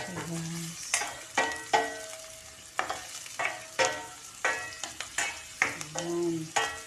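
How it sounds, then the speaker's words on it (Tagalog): Onions fry in a pan, a steady close sizzle broken by repeated sharp scraping stirs of a utensil against the pan, with a few brief higher tones between strokes. "Hintayin natin maluto itong sibuyas guys"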